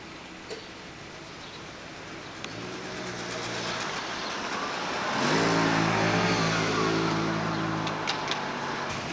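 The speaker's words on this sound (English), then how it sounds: "Here we have the 1966 Le Mans winning GT40 pulled by a taxi." A 1966 Le Mans-winning Ford GT40 being towed by a taxi rolls past outdoors, a steady engine drone that swells and grows louder midway as the vehicles draw near, with faint clicks and no speech.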